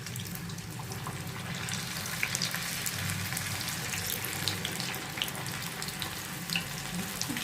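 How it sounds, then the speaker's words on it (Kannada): Raw banana kebabs deep frying in hot oil, giving a steady, loud, hissing sizzle that carries without a break throughout. "ಸ್ವಲ್ಪ ಡೀಪ್ ಫ್ರೈ ಮಾಡಬೇಕು ಇದನ್ನು."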